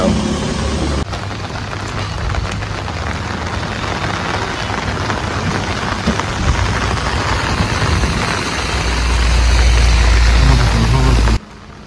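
Heavy rain pours in Bangalore as a loud, continuous broadband roar that stays steady for most of the stretch, with a deeper rumble swelling near the end before cutting off.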